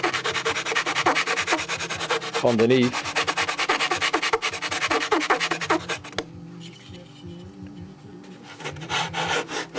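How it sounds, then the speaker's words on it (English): A sanding block scrapes back and forth along wood edges during an aircraft canopy install, loud and close in steady strokes, easing to lighter rubbing toward the end. "I want to true up all these edges with a sanding block"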